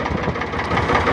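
A David Brown 880 tractor engine runs steadily just after starting, a loud, close, rough diesel drone with an even throbbing beat and no voices.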